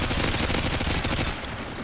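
Rapid gunfire in the video game Modern Warfare 2, a dense, loud burst of overlapping shots with crackling reports, easing slightly toward the end.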